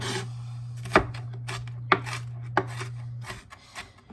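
A knife chops through an onion on a cutting board with about five sharp, well-spaced thuds, close and clear, over a steady low electrical hum that cuts out near the end.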